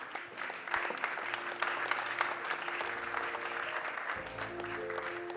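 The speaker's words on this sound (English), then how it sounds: "Let's keep that applause going." Steady audience applause fills the hall at the 2019 National Science and Maths Quiz trophy launch, a dense, continuous wash of clapping with a few brief voices and low tones underneath.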